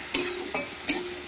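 Ginger-garlic paste fries with onion and tomato in a pan for a fish dish, a low sizzle broken by four sharp scrapes of a spoon stirring against the metal.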